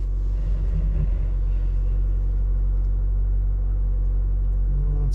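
2019 Mazda CX-5 with a high idle fault running, a steady low engine rumble close by, constant in level throughout with no talk.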